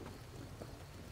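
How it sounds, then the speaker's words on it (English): Rain and thunder in the video game Fallout: New Vegas, a faint continuous hiss of rainfall with a low rumbling undertone, steady and without voices. "in this rain, it's kind of difficult to see"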